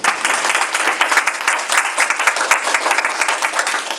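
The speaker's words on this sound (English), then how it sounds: "Big round of applause," Audience applause at a Srimad Bhagavatam session at the Bensalem Cultural Center: a steady, dense burst of many hands clapping together, fairly close and sustained for several seconds.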